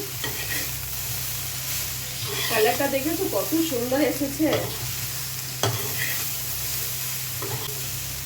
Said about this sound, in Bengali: এটা আবার ভালো করে নাড়িয়ে নিচ্ছি